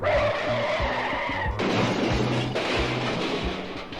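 A truck's tires skid and squeal in a sound effect on a 1978 Caedmon story record, several loud screeching bursts with engine rumble, a brief break midway, then the skid resumes and fades slightly at the end.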